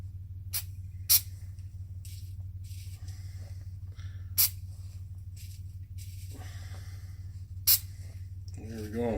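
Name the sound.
spraying Crown penetrant onto clutch parts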